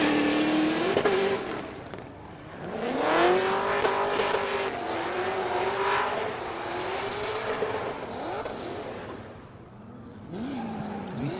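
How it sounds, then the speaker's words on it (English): A Nissan S14 drift car at the Oman International Drift Championship 2023 qualifying holds full throttle, its engine revving hard in rising and falling sweeps over continuous tire squeal as it slides past at moderate distance. "as we see him puts the foot down, does anything to hold that S14 on angle and gets it over the line."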